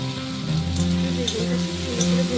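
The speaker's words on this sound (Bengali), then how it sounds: "সামান্য একটু নুন দিয়ে বেগুনটাকে ভেজে নেব" Brinjal pieces frying in oil with a pinch of salt, a close, continuous sizzle with steady crackle and a faint humming tone underneath.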